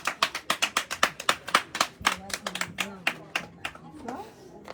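Audience applause at a charity gathering, a run of sharp, rhythmic hand claps close by that breaks into looser scattered clapping with voices talking underneath toward the end.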